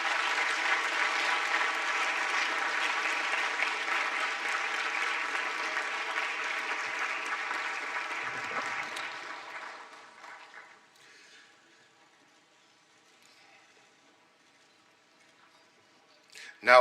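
Large audience at a business forum conference gives sustained applause for keynote speakers, a broad roar that fades over about ten seconds into near silence, with a sharp sound at the very end.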